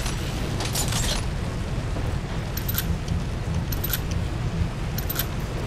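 Rapid clicking of a computer keyboard during Bioshock 2 gameplay, scattered bursts of keystrokes over a loud, steady rumble of game sound.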